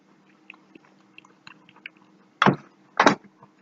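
Two distinct, close crunchy bites of pasta with BBQ beans, heard after a stretch of quiet, soft mouth noises and small clicks.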